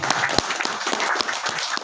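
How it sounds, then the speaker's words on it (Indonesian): Audience applause at a religious gathering, a dense, steady patter of many hands with a few sharper claps standing out. "tepuk tangan sekali lagi."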